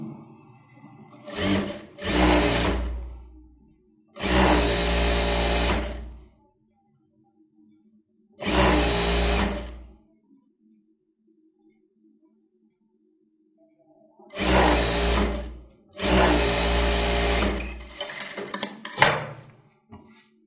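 A sewing machine stitches a blouse in short, close bursts of rapid needle clatter, about six runs separated by quiet pauses, with no talk over them.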